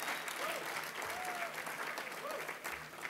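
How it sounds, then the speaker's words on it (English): Audience applause fills the room at a steady, fairly loud level, a dense crowd clapping continuously without pause while faint voices and whoops rise above it. "Give a round of applause."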